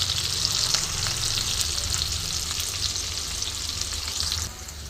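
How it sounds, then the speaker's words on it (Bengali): Chopped onion and green chilli frying with panch phoron, a steady close sizzle with light stirring throughout that drops slightly near the end, no voices. "পাঁচফোড়নের সাথে পেঁয়াজ আর কাঁচা লঙ্কা কুচিটা একটু ভালো মতন ভেজে নিয়েছি"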